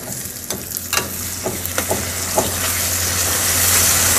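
Chopped tomatoes tossed into urad dal masala frying in hot oil over high heat, loud close sizzling with scraping stirs and clicks that settles into a steady rising fry.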